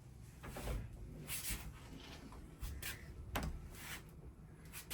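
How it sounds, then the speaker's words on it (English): A bathroom door in a newly remodeled bathroom swinging fully open, heard as faint, soft knocks and rubbing scrapes spaced irregularly in a quiet room. "It's funny that I could swing this door open all the way."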